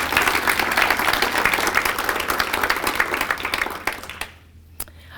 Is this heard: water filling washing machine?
no